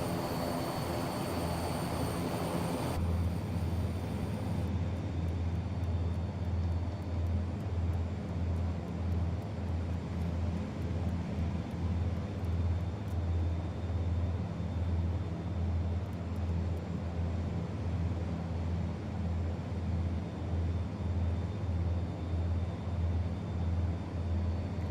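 A YS-11 turboprop airliner's engines in Microsoft Flight Simulator make a steady, loud, low droning hum, with a hiss of wind noise over it, continuous for the whole stretch with no talking.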